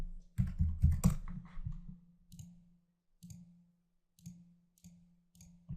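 Fingers typing a comment on a computer keyboard, a quick burst of close clicking keystrokes followed by sparse single taps spaced out, quiet with no talk over it.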